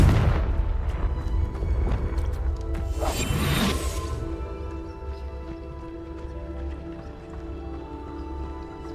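Confringo blasting spell in Hogwarts Legacy: a deep booming explosion with a crashing burst around the middle, then a low rumbling tail fading under steady game ambience.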